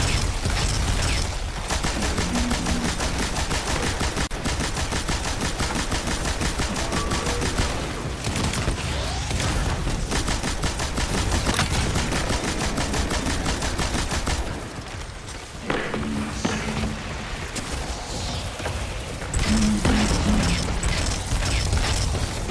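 Sustained heavy gunfire from the Brig, a tank-like enemy, during a Grandmaster Vanguard Alert strike on Exodus Crash in Destiny 2, with dense rapid bursts and mechanical clatter filling the whole stretch and only brief lulls.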